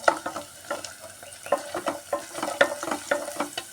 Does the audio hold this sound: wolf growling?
no